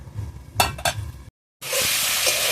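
Pumpkin greens curry with jackfruit seeds, papaya and shrimp being stirred and fried in a pan: a few scraping stirs and soft clinks over a low sizzle, a brief silence, then a loud steady hiss of frying.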